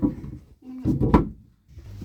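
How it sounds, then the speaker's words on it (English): Wooden drawers in a DeFever 49 Pilothouse trawler's boat galley are lifted and pulled out, producing a few short knocks and sliding scrapes close by, separated by brief quiet gaps. "The drawers you lift up and then out."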